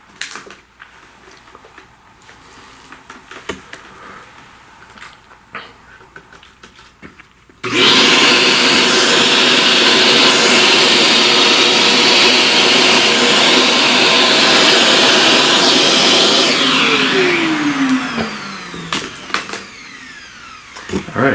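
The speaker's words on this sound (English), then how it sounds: "let's vacuum all that." A vacuum cleaner switches on abruptly and roars steadily for about ten seconds, then winds down with a falling whine, sucking up pastel dust from smooth paper during a pastel flower drawing session.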